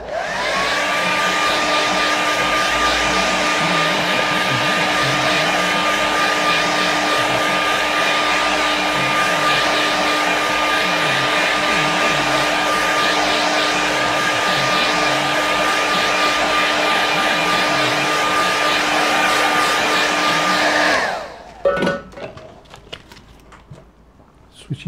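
Hair dryer blowing over a watercolour painting, a loud steady whirring drone with a faint whine for about twenty seconds before it cuts off, followed by quiet handling sounds.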